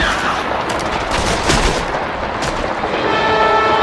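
Gunfire from the zombie shooter game Left 4 Dead 2 on Expert difficulty, dense overlapping shots and bursts over a constant loud backdrop for the whole few seconds, with no clear pauses between reports.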